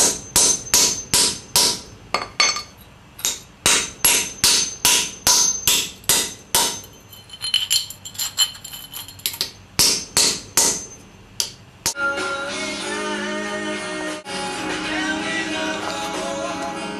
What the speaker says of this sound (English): I'll just take a piece of the tube that I cut from the leftover scrap and whack it with a really big hammer a bunch of times